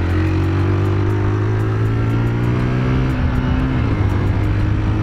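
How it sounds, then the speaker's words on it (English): A 1989 Suzuki GS125 motorcycle accelerates from the rider's position, the engine note climbing steadily before dropping as it shifts up a gear, then rising again, loud and continuous with wind noise. "Into third gear. It's quite a nippy little bike."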